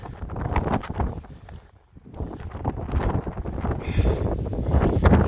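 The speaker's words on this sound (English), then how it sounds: "finally out of the wind." Gusty wind buffeting the microphone outdoors at Lady Finger Point, a rough, loud rumble that dips briefly then surges back, with no talk.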